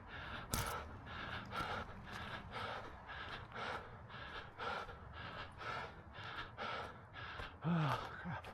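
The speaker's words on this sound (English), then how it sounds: "Yeah, you can hear me breathing hard." A runner breathes hard after running up a big hill during an orienteering course, with rapid, regular gasping breaths close to the microphone and a sharp rustle near the start.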